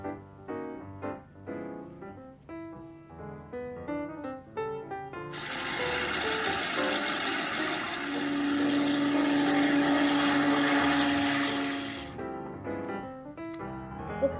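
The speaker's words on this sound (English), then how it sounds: "by plane." An airplane in a children's vehicle-names show drones steadily for several seconds, swelling and fading over cheerful background music.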